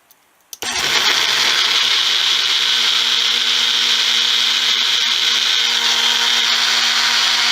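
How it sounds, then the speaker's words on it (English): A blender starts with a click and then roars continuously, blending vegetables with juice in a loud, steady high-pitched whir close by, with no voices. "Pop that puppy in the blender."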